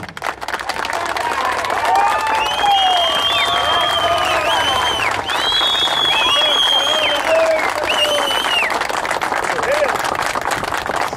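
Applause at a civic ceremony honoring a guest, with a crowd clapping steadily and loudly throughout, mixed with cheering and voices.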